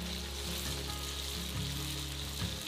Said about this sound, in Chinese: 把豆腐入锅呢，两面给它煎到焦黄